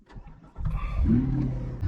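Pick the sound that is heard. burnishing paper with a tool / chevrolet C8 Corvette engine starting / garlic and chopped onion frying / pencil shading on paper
chevrolet C8 Corvette engine starting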